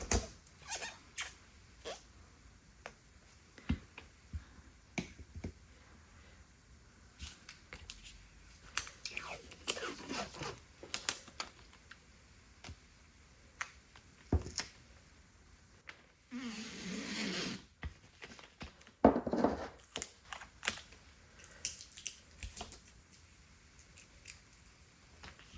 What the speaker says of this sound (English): And I have to find the start of the tape again.